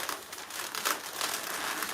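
Latex balloon being handled and twisted into a petal shape for a hoop decoration, a close, soft run of squeaky crinkling and rubbing sounds with no talking.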